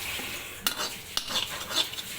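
A utensil stirs and scrapes oats roasting in extra virgin olive oil in a pan on a low flame, with a few sharp clinks over a soft, steady sizzle and no talking.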